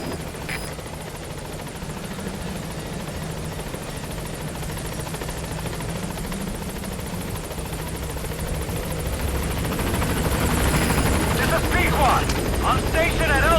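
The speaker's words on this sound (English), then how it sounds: "In the meantime, get on the chopper." Helicopter rotor drone from Metal Gear Solid V: The Phantom Pain, a steady loud whirring beat that slowly swells as the chopper draws nearer, with voices talking over it.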